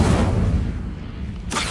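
A fire spell cast in Hogwarts Legacy, a booming burst with a sustained whooshing roar that fades, then another loud burst at the end.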